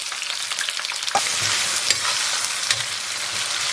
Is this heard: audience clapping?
no